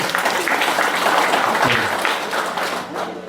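Supporters clap together in a dense, continuous wash of applause that holds steady, then eases off slightly toward the end, with a faint murmur of voices underneath.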